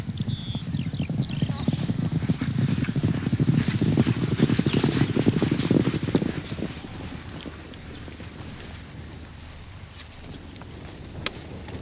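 Horse hooves clip-clopping at close range for about six seconds in a 1978–1982 British TV drama scene, a steady loud patter over low rumble, then fading to quieter ambience with faint wind.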